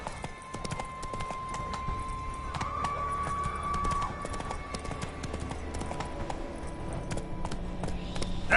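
Roach, the horse in The Witcher 3, gallops with a fast, steady clip-clop of hooves, close and continuous against a low background of outdoor ambience.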